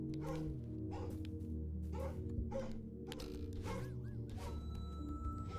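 A frightened dog whines and yelps in repeated short bursts over several seconds, close and clear above a constant low hum, with gasping breaths between cries.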